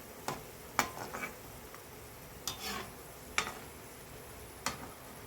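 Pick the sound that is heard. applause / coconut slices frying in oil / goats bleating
coconut slices frying in oil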